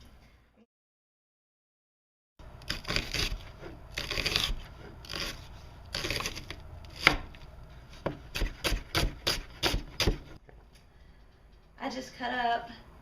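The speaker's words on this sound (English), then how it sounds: "I'm just thinly slicing them." Thin slices cut through Vidalia onions with a knife on a board, a quick run of crisp, evenly spaced chops near the mic, with a speaking voice in the background between strokes.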